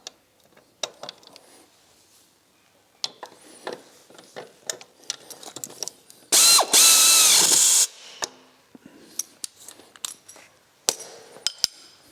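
Rapid ratchet clicks and scattered metallic taps while tightening the remaining bolts on a race car suspension, with one loud, brief power-tool burst in the middle; close and fairly quiet otherwise, no talking.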